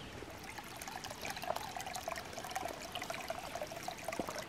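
Water trickles over leaves at a small trail water source near Whitewater Falls, a faint, steady babbling dribble with soft splashes, continuous and fairly close, with no voices.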